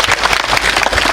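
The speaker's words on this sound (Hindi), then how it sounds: "एक बार हाथ ऊपर करके उनके लिए जोरदार तालियों से स्वागत करिए।" An audience at a community gathering breaks into dense, loud applause, a continuous burst of many hands clapping at once.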